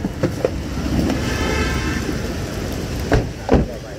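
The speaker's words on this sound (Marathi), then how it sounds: "खूप पाऊस येतोय गाईज." Heavy rain pours in a steady broadband wash outside near a mall in Andheri Oshiwara, with a few soft knocks and thuds rising through it and no talking.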